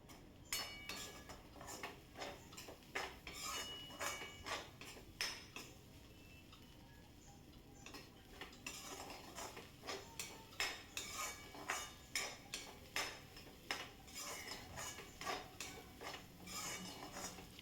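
A spatula scrapes and taps a pan as Mumbai-style egg bhurji is stirred. The strokes come in a steady, rhythmic run of clinks, pause briefly midway, then resume, close and moderately quiet.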